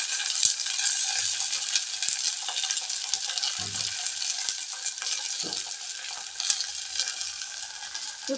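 Curry leaves sizzling in hot oil while making kalavaikkai sambar, a bright continuous crackling fry with occasional pops and a few soft stirring knocks, close and steady with no voices.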